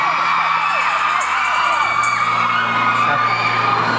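A concert crowd at a live pop show screams and cheers loudly and continuously, a dense wall of high-pitched shrieking that never lets up.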